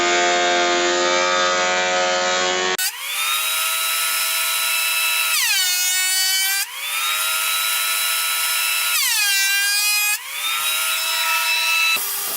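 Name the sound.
wood planer thinning wooden pieces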